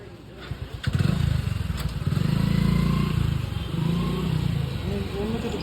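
A motorcycle engine rumbles and revs close by, a steady low drone throughout, with people talking over it.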